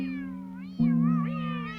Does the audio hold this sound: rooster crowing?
no